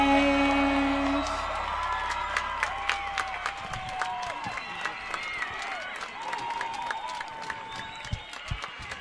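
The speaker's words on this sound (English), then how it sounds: "Let's give another round of applause for the Frankfurt voices in the class of 2019." Graduation audience for the class of 2019 bursts into applause with scattered whoops and cheers, a dense clapping patter that rises and then thins, carried alone without talk.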